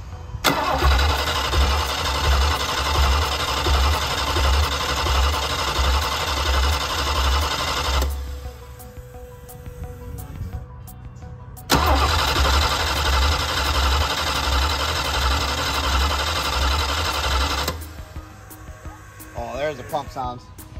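A 2000 Mercruiser 7.4L MPI L29 marine engine being started after an overhaul, cranking and catching twice, each time running loud and steady for several seconds before cutting off, with brief quiet between runs.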